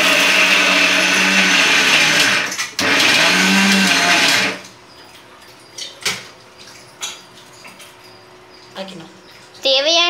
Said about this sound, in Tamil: தேவையான அளவு பால் ஊற்றி அரைச்சி எடுத்துக்கணும்